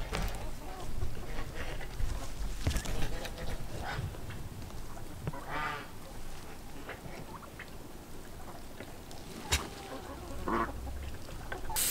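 Ducks quacking around a coop beside a small backyard pond, scattered nasal quacks and honks near and far among rustling and splashing, with some talking in the background.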